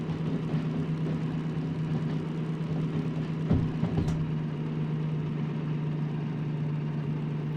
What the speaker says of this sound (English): The engine noises are good enough to shift by ear.